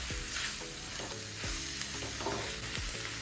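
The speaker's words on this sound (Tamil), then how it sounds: "இந்த பேம்பூ இப்போ ஆனியனோட சேர்க்க போகிறோம். சேர்த்து நல்லா மிக்ஸ் பண்ணி விட்டுருவோம்." Bamboo shoots are stirred into frying onions in a pan, a steady close sizzle punctuated by regular scraping strokes of a spoon against the pan.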